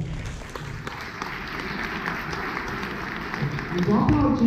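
Scattered audience applause at an academic debate at PUC-GO, steady, moderate clapping from a seated crowd that swells louder near the end, with a voice speaking faintly underneath.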